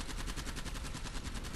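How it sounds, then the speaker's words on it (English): Rapid automatic gunfire in a video game crackles continuously at a steady, dense rhythm throughout. "You're shooting at him."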